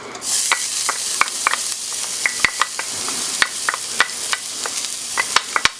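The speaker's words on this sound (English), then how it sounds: "I'm going to add the garlic and the ginger." Garlic and ginger sizzle in oil in a stir-fry pan that is not very hot, making a steady soft hiss broken by frequent sharp clicks and scraping taps from a utensil moving the food, close by and with no talking.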